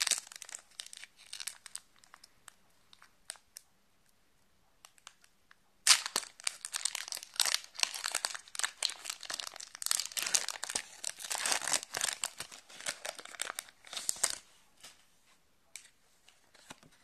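Crinkly foil wrapper of a Pokémon-style trading card booster pack being torn open and handled, a long run of close, bright crackling rustles after a quieter stretch, with no talking.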